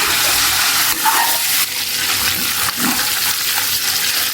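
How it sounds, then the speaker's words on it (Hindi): Chicken frying in a karahi for a Peshawari charsi karahi, a loud, dense sizzle with bubbling and occasional stirring scrapes, close and continuous, no voices. "चिकन को फ्राई करना है हमने, जब तक इसका गोल्डन सा कलर ना निकाला है तब तक हमने इसे फ्राई करना है"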